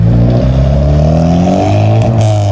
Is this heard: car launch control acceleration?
yes